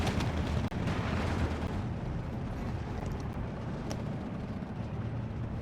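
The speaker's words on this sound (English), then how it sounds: "These guys are getting hurt bad by the PTRS and machine gun." Machine gun and PTRS anti-tank rifle fire in Steel Division II, distant booming shots and rumbling battle noise under a dense wash, with a few sharp reports scattered through.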